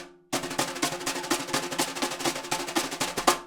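Quick, crisp jazz brush strokes on a snare drum in a steady fast rhythm, each short swish clipped off, played alone at close range.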